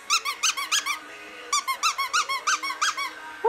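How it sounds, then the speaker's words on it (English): Dog's squeaky toy squeaked in quick bursts of several sharp, high squeaks each, with a pause and then another run of squeaks, close and fairly quiet. "Shall we hear the squeak?"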